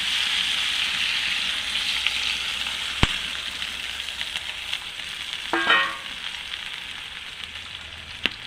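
Tilapia fish frying in a pan hisses with a steady bright sizzle as water is added, the sizzle flaring briefly with bubbling and a few sharp ticks from the pan.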